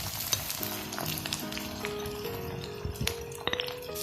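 Garlic, green chili and ginger sizzle in hot oil while being stirred for a Kerala lime pickle, with steady frying hiss, scattered utensil clinks and scraping, and no talking.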